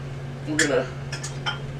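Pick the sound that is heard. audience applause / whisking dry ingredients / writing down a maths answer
whisking dry ingredients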